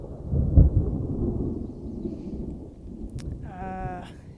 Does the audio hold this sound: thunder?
yes